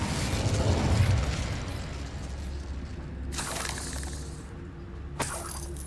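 The Incendio fire spell is cast in the Hogwarts Legacy video game: a low rumbling whoosh, then two sudden bright bursts of crackling, shattering fire, loud and close, with no voices.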